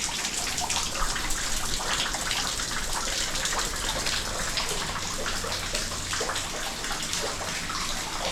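Water pouring down from above into a rock-cut tank at the end of a 2,200-year-old Buddhist cave at Bedse, Maval, Maharashtra: a steady, close, unbroken splashing rush that holds even for the whole stretch with no voices.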